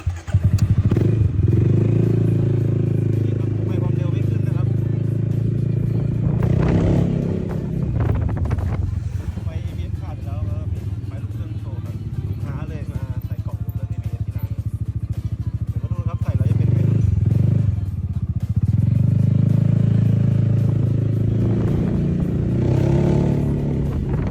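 A Yamaha Xmax scooter with a speedometer fault is ridden, its engine droning loudly and steadily throughout, with rises in revs near the start, around the middle and toward the end, and someone talking over it.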